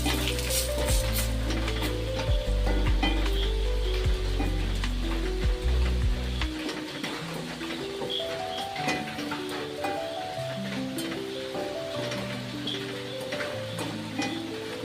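Chili powder sizzling in a hot pan with the stove turned off, for lemon pickle, a continuous close hiss with light ticks of stirring beneath background music, no voices.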